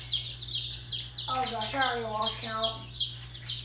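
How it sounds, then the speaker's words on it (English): Many chicks in a hatchery box chirp and cluck in a busy, moderately faint chorus, with someone talking over them. "There's so many birds in here."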